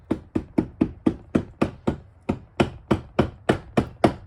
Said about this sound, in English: make sure you have a rubber mallet. You don't want to be using metal on metal here.